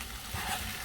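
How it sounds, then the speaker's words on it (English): Chicken gizzard fries in a pan, giving a brief, steady hiss and crackle of sizzling fat, close and even throughout. "we're going to fry it all up together"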